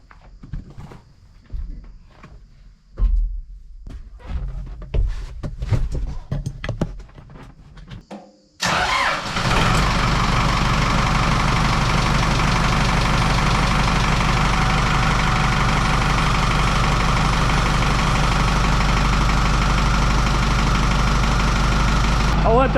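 Kubota M8580 diesel tractor cranking and catching, then settling into a loud, steady rumbling idle that runs on unbroken; quiet clatter and a voice before the start.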